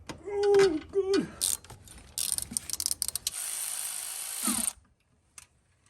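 A ratchet works the 6 mm Allen head bolt on the tensioner bracket of a Toyota 3.4L V6 5VZ-FE engine, giving close clicking and metallic turning bursts followed by a longer grinding whir.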